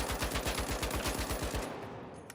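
A Lewis gun in The Finals fires a rapid, even burst of roughly fifteen loud shots at close range, then stops and leaves a short fading tail.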